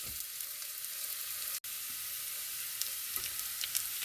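Chicken feet sizzle and fry in hot oil, a steady bright crackling hiss with a brief break in the middle, heard alone without voices.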